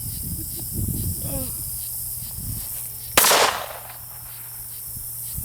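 A single sharp gunshot fired at a target on a shooting range, close and loud with a quick hissing tail. Quiet talk comes before it and a steady background hum runs throughout.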